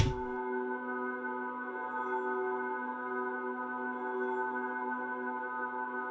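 A sustained synth pad of four to five layered sounds with a little reverb holds a rich chord steadily after a brief attack, smooth and unchanging with no voices.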